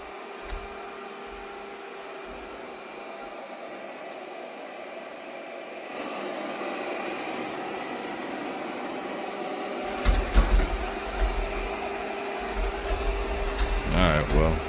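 A Yeedi M12 Pro Plus robot vacuum works over a rug, its steady airy suction hum growing louder and rougher partway through, with brushing bumps and a short whistle-like tone near the end.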